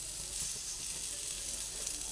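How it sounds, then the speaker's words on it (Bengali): Steady, soft sizzling from eggplant slices frying in a dry pan without oil, a continuous quiet crackle with no voices. "একদম বিনা তেলেই বেগুনটা একটা দিক ভাজা হয়ে গেছে"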